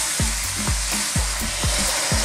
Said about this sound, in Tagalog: imimix natin ito ng mga ilang minuto dahil mas matigas po yung carrots, cauliflower, at saka ang bataw sa ating cabbage at capsicum